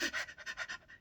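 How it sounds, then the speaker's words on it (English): Rapid, rhythmic breaths pulse in quick succession, a person deliberately hyperventilating with about eight short, airy pants in a second, close and fairly quiet. "you can start breathing intentionally, hyperventilating"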